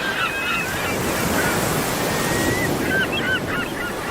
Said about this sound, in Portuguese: Este lado da ilha, o mar é mais agitado.